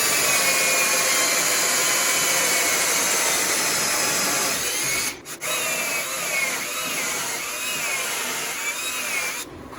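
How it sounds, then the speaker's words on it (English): A cordless power drill whirs loudly and continuously boring 5/8-inch dowel holes, briefly dropping out around the middle before spinning back up with a wavering pitch. "So I'm just gonna drill holes for dowels"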